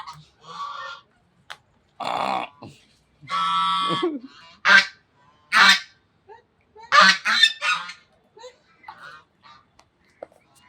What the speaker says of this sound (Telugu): ఈజిప్ట్లో బాతులు కూడా ఉన్నాయి చూస్తారా